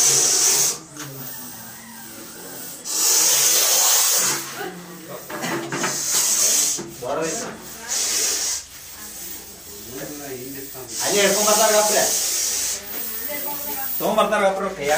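A Russell's viper gives loud, close hissing in repeated bursts, with speech in between and alongside it.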